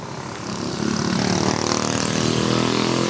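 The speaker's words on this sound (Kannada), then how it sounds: "ಎಂತ ಶಬ್ದ ಮರದು ಸ್ಕೂಟಿ" A scooter engine drones steadily during a ride in Fort Kochi, Kerala. The hum rises in the first half second, then holds as a loud, continuous, close engine tone with no voices.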